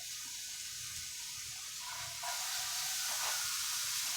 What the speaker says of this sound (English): I'm getting them in my skillet.